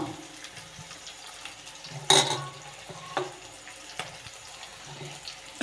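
Onions and other ingredients being sautéed in a pan with salt for a Kerala-style side dish, giving a soft, continuous hiss. A sharp clatter of a spoon against the pan cuts through near the middle.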